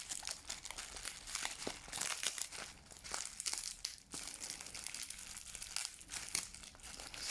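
A wrapped mystery box of minerals is unpacked, with close, quiet, continuous crinkling and rustling of wrapping, occasional sharper tearing crackles, and no voices.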